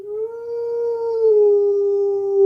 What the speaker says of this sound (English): My dog howling, y'all.